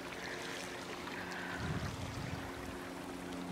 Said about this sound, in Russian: И ручей вот этот.